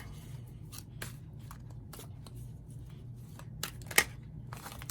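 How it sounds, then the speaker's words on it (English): A tarot card drawn from a deck, with soft crisp card slides and taps in short separate bursts, one sharper snap near the end, close and quiet over a low hum. "I'm going to pick a card for the bear."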